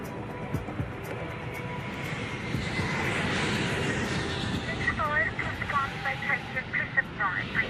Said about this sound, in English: There's less than 90 seconds until the next plane lands.